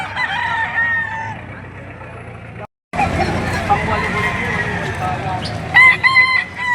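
Chickens cluck and a rooster crows nearby among farm birds kept in pens, loud and close, with a person talking throughout and a sharp crow near the end.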